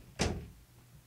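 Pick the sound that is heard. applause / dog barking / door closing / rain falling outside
door closing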